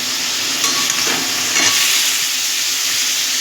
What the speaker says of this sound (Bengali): দিয়ে এটাকে আমি ভালো করে নাড়িয়ে নেব। নাড়িয়ে বলতে ভেজে নেব।